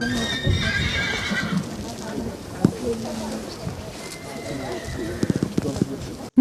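Horses at an equestrian show-jumping competition whinny loudly near the start, with hooves clip-clopping and birds faintly in the background while people talk.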